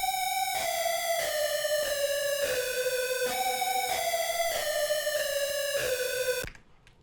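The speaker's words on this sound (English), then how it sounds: "it starts out with this falling lead that's very distorted, and this is what that sounds like" A heavily distorted synth lead plays a falling melodic pattern in short repeated phrases, bright and buzzy with dense harmonics, loud and alone before cutting off abruptly at the end.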